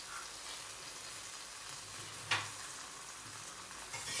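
Spices for a prawn malai curry frying in a pan make a soft, constant hiss of sizzling oil, with one brief clink of stirring partway through, close but fairly quiet.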